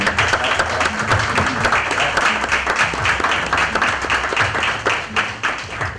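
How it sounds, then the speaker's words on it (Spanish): Continuous applause from an audience at a Miss Supranational Carabobo 2022 pageant press event, a dense, steady patter of many hands clapping that stays even and fairly close, easing slightly at the end. "quiero darle un aplauso de validación a ustedes primeramente, los medios de comunicación"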